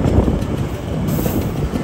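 Menoreh New Generation economy-class train arriving at Pasar Senen station in Jakarta, a dense steady rumble of wheels on rails heard from inside the carriage, with no talk.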